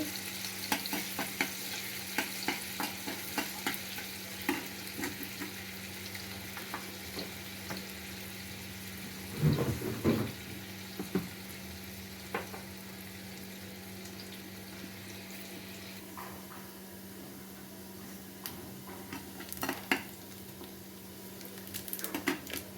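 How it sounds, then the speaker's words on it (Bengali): Onions with cumin fry until brown in a pan with a soft, continuous sizzle, heard from close by. Occasional stirring clinks and scrapes, with one louder clatter around the middle, run through a long stretch without talk. "আমি পেঁয়াজগুলা ব্রাউন কালার করে ভেজে নিলাম একটু জিরা দিয়ে দিলাম"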